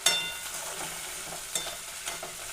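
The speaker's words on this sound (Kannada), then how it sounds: "ಇದನ್ನು ಏನು ಮಾಡಬೇಕು, ಬೆಚ್ಚಗೆ ಮಾಡೋಣ ಎಣ್ಣೆ ಒಳಗೆ" Ingredients warming in hot oil in a pan for a cluster bean palya give a soft, steady sizzle with a few light stirring scrapes and clinks, fairly quiet and close.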